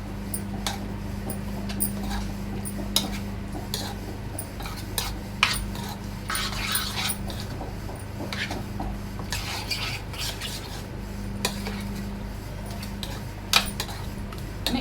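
Chicken pieces being mixed with cracked egg and spices in a bowl, heard as a steady, soft stirring with frequent light clinks and taps of a utensil against the bowl over a low constant background hum.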